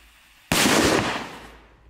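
A firework rocket bursts in one sudden loud bang followed by a crackling, hissing tail that fades over about a second, with no talk.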